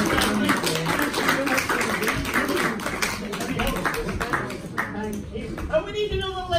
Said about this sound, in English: Would you give this lovely lady a wonderful round of applause?